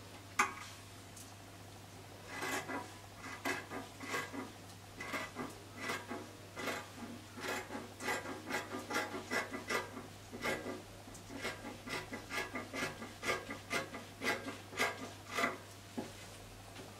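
Scissors cut through fabric for a full circle sleeve in a quiet room, a close, faint series of irregular snips and crisp shearing sounds over a low steady hum, with no talking.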